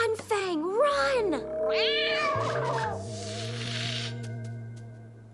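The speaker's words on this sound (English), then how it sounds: "cat! Who let that beast in here? No cats allowed!" A cartoon cat meows loudly in a few drawn-out, wavering yowls, close and prominent, with background music and noise running underneath.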